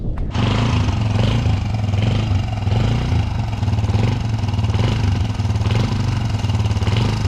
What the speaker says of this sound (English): Will it just sit there and idle?